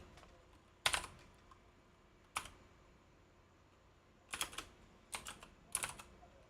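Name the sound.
typing on a keyboard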